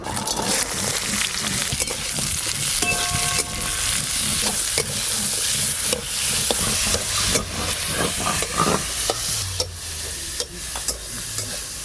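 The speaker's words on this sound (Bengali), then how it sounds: "এখানে পেঁয়াজ, আদা, রসুন, টমেটো, গোটা গরম মশলা নিয়েছি, হালকা করে একটু ভেজে নেব" Onion, ginger, garlic, tomato and whole garam masala fry in a pan with a dense, steady sizzle and hiss, punctuated by frequent close scraping stirs throughout.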